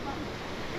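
Natural waterfall stream running beneath a cobbled street in Ouro Preto, Brazil: a steady, broadband rush of flowing water, fairly loud and continuous throughout the short moment.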